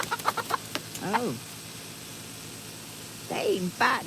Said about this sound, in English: The hens is fighting each other.